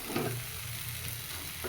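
Already-fried mixed vegetables and mustard are stirred together in a pan, giving a soft, steady sizzle with light stirring for a brief moment.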